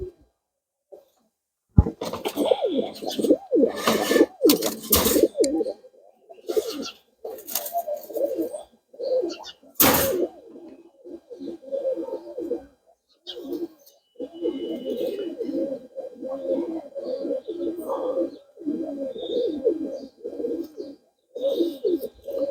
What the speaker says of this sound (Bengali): আরেকটা কবুতর দেখাই